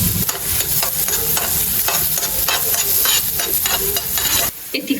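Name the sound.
garlic pieces frying in a little oil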